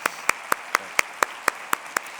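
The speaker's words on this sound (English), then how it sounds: "let's give another round of applause to our speakers today" Evenly spaced sharp claps, about nine in a steady rhythm, fairly close, during applause for speakers at a conference industry session.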